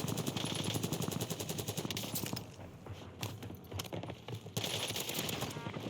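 Rapid automatic gunfire in a Warzone match crackles in dense bursts, loud and close, with a brief lull midway before the shooting resumes just as hard.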